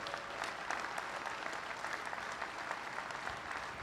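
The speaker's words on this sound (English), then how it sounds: "So while you're standing, applaud yourself right now" A standing audience at American Legion opening ceremonies applauds steadily, a fairly distant, even patter of many hands clapping with no pause.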